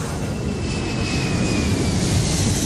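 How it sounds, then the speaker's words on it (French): An airplane sound effect plays as a steady, dense roar of engine noise with a faint whining tone through it, loud and constant for the whole stretch, with no voices. "Ça fait bizarre un bruitage d'avion, il n'y en a plus beaucoup qui volent."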